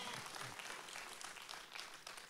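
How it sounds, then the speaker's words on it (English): Church congregation clapping their hands together, a steady dense wash of applause filling the room, with a few faint voices underneath. "Come on, clap your hands."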